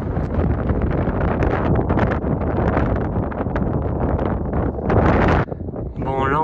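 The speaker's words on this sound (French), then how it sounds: "il y a énormément de vent" Strong gusting wind on an exposed high mountain near a 3,300 m summit, buffeting the microphone in loud, rough roaring bursts that swell and drop, with a sharp surge near the end.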